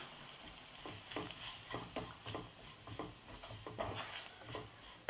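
Roasted gram flour is stirred into fried onion, ginger and garlic in a pan with the flame off for a spicy besan-brinjal dish, making a quiet, rhythmic scraping and shuffling with a faint sizzle underneath.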